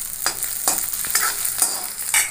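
Chopped green chillies frying in a pan while being stirred, with a steady close sizzle and rhythmic scraping strokes about every half second.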